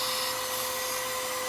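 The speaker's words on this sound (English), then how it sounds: "to get those out, we simply use an attachment to a vacuum cleaner." Shop vacuum cleaner fitted with a narrow attachment sucking carbon debris out of an Audi S4 engine cylinder, a steady, loud, continuous airy whine with a fixed tone, close up and with no talking.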